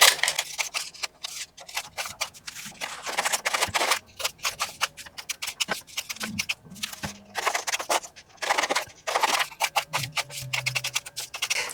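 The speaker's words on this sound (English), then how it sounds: "I decided to cut these pieces that I have into smaller pieces using my scissors." Scissors snip through paper scraps in quick irregular bursts, a string of close crisp cuts and rustles with brief pauses between runs, no voices.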